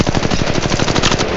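Rapid automatic gunfire from a weapon in Apex Legends Mobile, a loud, steady stream of closely spaced shots running continuously through the moment with no talk over it.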